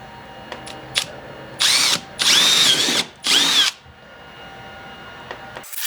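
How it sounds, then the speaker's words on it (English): A power drill bores holes into a Porsche 987 Cayman front bumper for a GT3-style vent, three loud whining bursts of about a second each, separated by short pauses, with a few small clicks and taps around them. "drilling these holes so that I can fit my jigsaw blade through. So, yep, start drilling."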